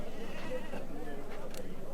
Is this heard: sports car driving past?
no